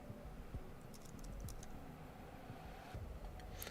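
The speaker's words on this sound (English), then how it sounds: "Sound of someone typing furiously at a keyboard echoes through the air." Fast, furious typing on a computer keyboard in the video game Goddess of Victory Nikke, a quiet, irregular clatter of rapid key taps in short bursts, faint and alone.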